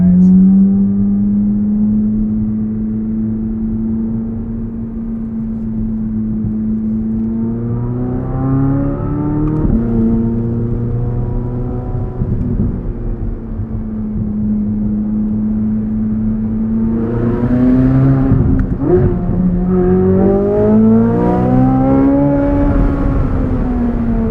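A 2023 Chevrolet Corvette Z06 engine revs repeatedly from inside the car, rising and falling in pitch with a throaty roar and a few sharp pops near the end.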